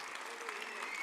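Brief clapping from the audience at the 2023 Global Investigative Journalism Conference, a steady mid-level patter of many hands heard for about a second.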